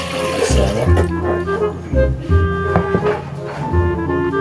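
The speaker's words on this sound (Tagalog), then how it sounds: "lagyan natin ng tubig yan." Water runs from a tap into a container in a home kitchen setting, a loud close splashing fill with rhythmic surges, and a voice talks briefly over it.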